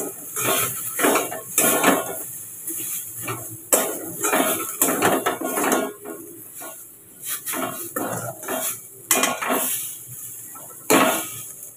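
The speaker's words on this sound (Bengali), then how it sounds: "এবার এটাকে শুধু সয়াবিনটাকে নাড়তে হবে" Soybean chunks are stirred in a pan with a metal spoon, making repeated loud clanks and scrapes against the pan in irregular bursts over a faint sizzle.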